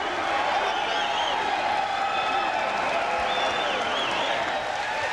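A boxing crowd in Muskogee's Civic Assembly Center cheers and applauds after a third-round knockout, a steady roar of clapping and whoops with a commentator's voice speaking over it.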